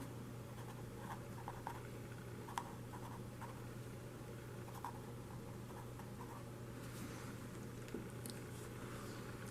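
Pen or marker writing out geometry notes on the differences between a rhombus and a kite, faint scratchy strokes and small taps close by over a steady low hum, with no speech.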